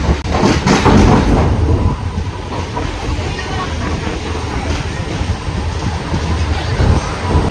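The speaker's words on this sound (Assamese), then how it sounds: "এতিয়া পাই গ'লোঁ ৰঙিয়া ৰেলৱে ষ্টেচন" A train rumbles and rattles continuously on arrival at Rangia railway station, heard close from inside a carriage as a loud broadband roar with faint clatter, and some voices come through underneath.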